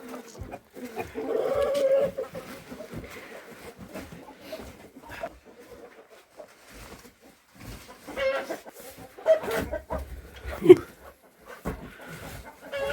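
Chickens cluck and murmur close by in scattered bursts, with some rustling and a few louder squawks toward the end.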